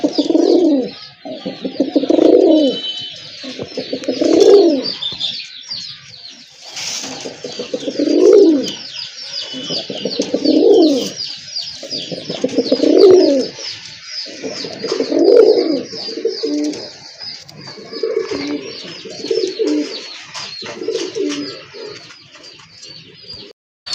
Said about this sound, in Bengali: আরেক পেয়ার কবুতর দেখতে পাচ্ছেন, সুন্দর মার্কিং।